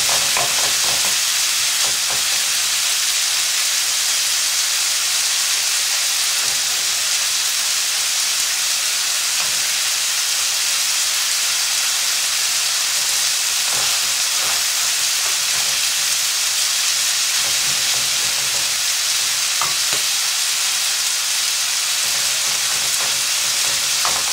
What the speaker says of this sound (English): what I'm doing is evaporating all the liquid that's left in the pan